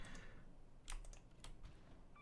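A computer keyboard clicks during gameplay of the strategy game Westeros: Total War, a few quiet, sharp keystrokes spaced irregularly over faint background noise.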